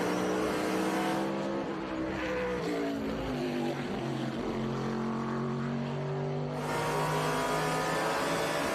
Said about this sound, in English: the Poncho Weaver Dodge Challenger.